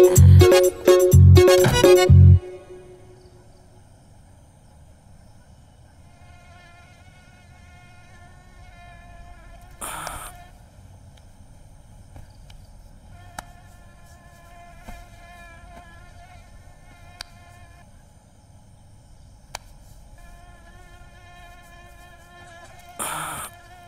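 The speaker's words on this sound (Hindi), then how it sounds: "मच्छर कितने हैं यार यहाँ पे" Mosquitoes buzz in thin, wavering whines through a quiet room in a Hindi film scene, faint and steady after a brief burst of sung sounds at the start, with a few soft knocks scattered throughout.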